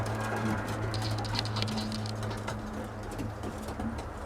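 Pigeons cooing in a loft at bedtime, with two cock birds penned nearby, soft rolling coos and light fluttering and shuffling close by, continuous throughout.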